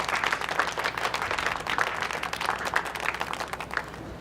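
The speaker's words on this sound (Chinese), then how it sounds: "你们应该为自己鼓掌。" Shop staff clap for themselves in a store before opening, a lively burst of many hands with distinct individual claps, moderately loud and fading toward the end.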